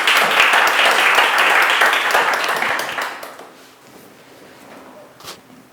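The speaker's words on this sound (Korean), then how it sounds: "큰 박수로 맞아주시길 바랍니다" An audience welcomes a speaker at a ceremony with loud, dense applause that fades out after about three seconds, followed by a few scattered claps and quiet.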